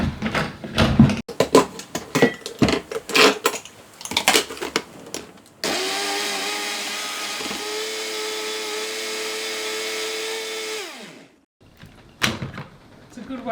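A blender whizzes edible weeds with milk into green pancake batter, a steady loud motor whine lasting about five seconds before cutting off, framed by clattering handling noises and a voice before and after.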